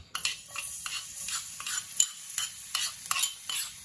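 Crushed garlic is stirred around a hot pan for saag paneer, with a spoon scraping in quick repeated strokes over a soft, steady sizzle, close and without talk.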